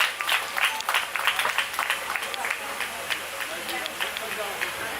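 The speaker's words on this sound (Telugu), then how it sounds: "అందరం చప్పట్లు కొడతాం" A church congregation claps together at a New Year's Eve watch night celebration, with dense rhythmic clapping that rises and falls in bursts while voices carry on underneath.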